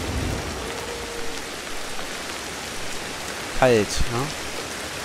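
Rain falls continuously in the video game Ancestors: The Humankind Odyssey, a constant broadband hiss of drops, and near the end someone briefly speaks over it.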